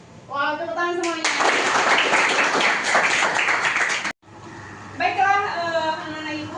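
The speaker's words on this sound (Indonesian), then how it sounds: "Wow, tepuk tangan semuanya." A classroom of grade-11 students breaks into a loud burst of clapping that lasts about three seconds and then stops abruptly, with a voice speaking just before and after.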